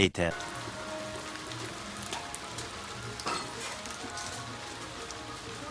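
Steady rain patters on a surface nearby, a continuous soft hiss with occasional louder drops.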